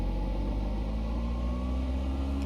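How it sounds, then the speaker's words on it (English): Light aircraft piston engine being throttled up to about 1700 RPM in a flight simulator, a steady loud drone with the pitch rising slowly. "Set the throttle to 1700 RPM for the engine checks"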